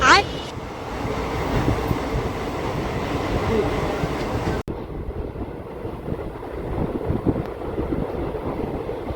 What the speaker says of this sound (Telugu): కృష్ణమ్మ కోన స్టేషన్లోకి అయితే ఎంటర్ అవుతుంది మన ట్రైను